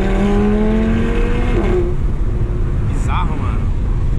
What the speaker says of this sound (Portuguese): dá pra ouvir o ronco do carro na hora que, que abre o ronquinho dele